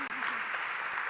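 An audience at an award ceremony for chapters claps and cheers together, a dense, steady wash of applause with voices mixed in.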